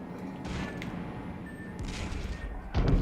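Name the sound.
torpedoes hitting ship in World of Warships video game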